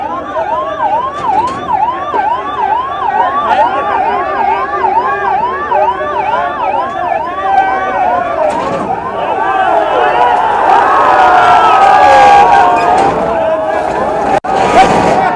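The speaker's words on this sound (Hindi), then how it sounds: "इसी बीच एम्बुलेंस पारस हॉस्पिटल का आया है" An ambulance from Paras Hospital pushes through a crowd of volunteers at a protest. Its loud wailing siren cycles continuously and close by, and voices and crowd noise carry on underneath.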